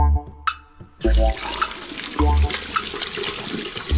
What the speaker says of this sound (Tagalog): Huhugasan ko lang naman ang mga kamay ko, yun lang.